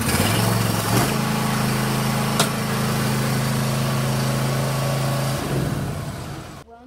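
A riding lawn mower's small engine idles with a steady hum, rises to a higher pitch and holds, then drops back before cutting off abruptly at the end.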